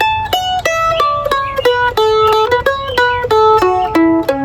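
Fiddle plays a simple tune ending in a bluegrass style, a short series of crisp bowed notes at a quick, even pulse that descends to a final sustained note, close and clear with no talking.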